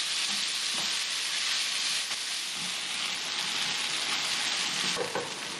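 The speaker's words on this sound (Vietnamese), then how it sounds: "Cho hết đậu hũ vô luôn. Mình xào lên ở lửa trung bình thôi." Tofu stir-fries in a pan over medium heat for vegetarian bún riêu, a steady, close crackling sizzle with faint stirring scrapes and no talking.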